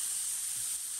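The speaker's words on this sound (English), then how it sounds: "Here's a burger in a frying pan" A burger patty sizzles in a frying pan, a steady bright hiss that stays close and even for about a second with no voices.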